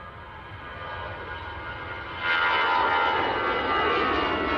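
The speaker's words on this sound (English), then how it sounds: "We've got a TUI Dreamliner. It's going to be landing shortly." A TUI Boeing 787 Dreamliner on approach to land at Manchester Airport, its distant engine roar building and then swelling abruptly louder as it draws closer, with no voices.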